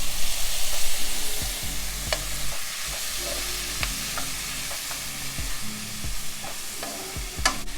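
Onion and tomatoes fry in a pan with ginger, a steady sizzle running throughout while a utensil stirs and scrapes in periodic sharp knocks, close and moderately loud with no talking.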